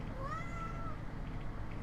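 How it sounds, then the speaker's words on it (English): A cat lets out a single drawn-out meow with a rising then falling pitch, heard over steady room noise with no talking. "Shut up, cat."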